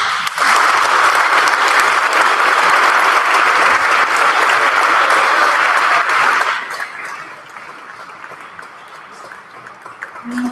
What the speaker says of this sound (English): we'll give a nice round of applause for our feeder schools.